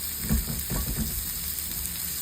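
Garlic and onions sauté in a pan with a soft, steady sizzle and a few stirring scrapes near the start, close and moderately quiet throughout.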